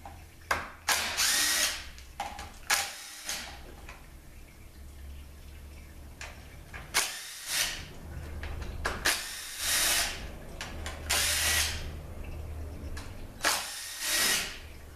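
A power driver with a Torx Plus bit spins out bolts from a 6L50 transmission in repeated short whirring bursts, each separated by brief pauses.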